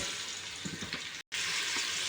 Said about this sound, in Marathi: इथे मी पातेल्यामध्ये तेल ओतून घेतलेलं आहे सर्वात पहिला हा कांदा भाजून घेऊ